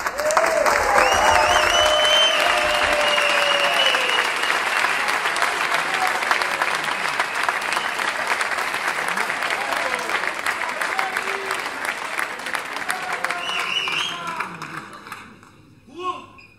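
Concert audience at a blues show breaks into sustained, loud applause that holds steady and then gradually thins out toward the end, with shouts and voices mixed into the clapping.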